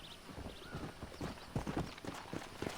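Horse hooves clip-clop in Red Dead Redemption, a few uneven hoof strikes at moderate distance, soft and close together, with a faint snort or whinny-like tone early on and no talk.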